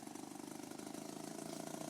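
Steam-powered BRASH vehicle pulling away from a stop, a faint, rapid rhythmic chugging that quickens and swells slightly as it accelerates.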